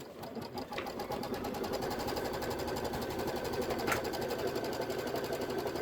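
A Kimberbell project sewing machine stitches a placement line on fabric, a continuous fast mechanical whir with a rapid needle rhythm, close and steady throughout with no talking.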